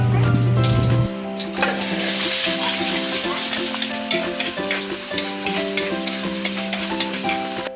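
Corned beef frying and being stirred in a pan, a steady sizzle with scraping and clinking of the utensil, preceded by a brief low hum at the start, no talking.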